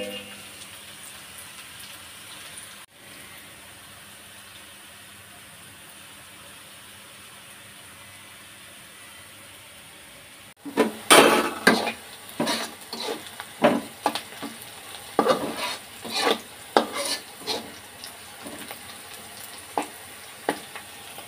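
Fish and potato pieces frying together in a pan, with a quiet low hum for about ten seconds before a loud burst of sizzling and spattering that continues with irregular crackles and stirring.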